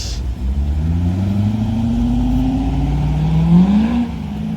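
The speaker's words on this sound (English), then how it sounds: "And here comes a BMW." A BMW drives past at night on a downtown street, its engine note rising and swelling as it nears and then fading, heard close and loud with no talk.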